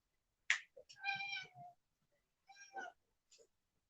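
A domestic cat meows several times indoors, with short separate calls and brief pauses between them, close and fairly quiet.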